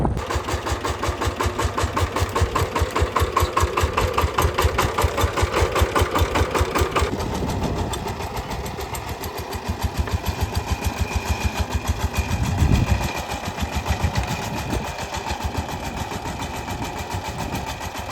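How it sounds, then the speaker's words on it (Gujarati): A small tractor engine harrowing a groundnut field chugs nearby with a fast, even beat, then shifts to a rougher, uneven rumble as it keeps working. "અત્યારે પાટીઓ હાકે છે નાના ટ્રેક્ટરથી"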